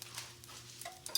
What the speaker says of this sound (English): there's that sizzle we're looking for